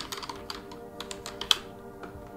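Quick keystrokes tap out a word on a computer keyboard while entering data in SPSS. The clicks are close and fairly quiet, coming in short irregular runs with no talking.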